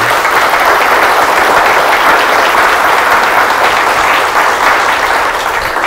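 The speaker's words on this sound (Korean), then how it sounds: "여기 수상자분들이 많은데 박수 한번 되게 세게 쳐주시죠" An audience claps loudly for award winners of a group innovation prize, producing a strong, continuous wash of applause that holds steady for several seconds without speech.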